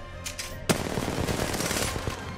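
R99 submachine gun firing in Apex Legends, a sharp shot followed by a continuous rapid automatic burst lasting about two seconds, loud and close with dense rattling gunfire.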